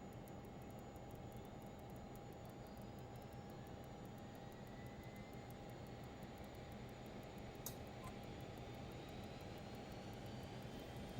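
A Learjet 35 jet engine spooling up in a flight simulator, heard as a steady, even whine and rumble over about eleven seconds, with one brief click partway through.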